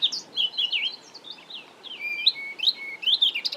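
A blackcap sings in summer near waterways, a clear run of varied, fluting warbled phrases and chirps at moderate distance over quiet background.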